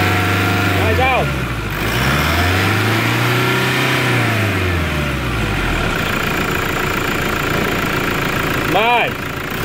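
Turbocharged Toyota Hilux engine revving nearby, its note rising and falling in long waves over a rough idle, with short whooshing bursts near the start and the end.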